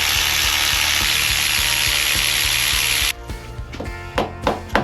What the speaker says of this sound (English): And ready to remove the cover held on by 4 bolts.